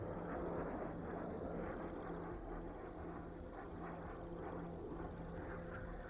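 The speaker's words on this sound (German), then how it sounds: "Man hört sie aber auch, das ist eine jetbetriebene Drohne." A steady, droning jet roar of a jet-powered drone flying overhead in the video game Ghost Recon, constant and fairly distant, with no voices.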